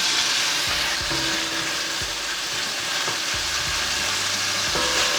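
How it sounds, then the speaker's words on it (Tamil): Ginger, chillies and onion sauté in a pan for a chicken curry, with a steady loud sizzle and occasional stirring scrapes throughout. "இஞ்சி, வெத்தல் மிளகாய், வெங்காயம் கொஞ்சம் வதக்குவேன் நல்லா."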